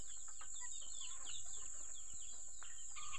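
Chickens kept in a backyard bamboo hut coop near a vegetable garden, with faint scattered clucks and chirps over a steady high background hiss, no speech.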